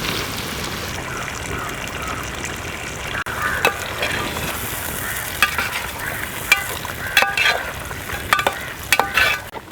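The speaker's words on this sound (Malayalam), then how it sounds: "നമുക്ക് ചിക്കൻ ഇട്ട് കൊടുക്കാം കേട്ടോ." Chicken pieces frying in hot sunflower oil give a steady, close sizzle, with occasional clicks and scrapes of stirring that grow louder and busier toward the end.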